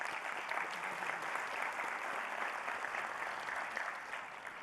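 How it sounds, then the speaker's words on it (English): Sustained applause fills a keynote lunch hall, steady and dense from start to finish, with no voices over it. "Applause."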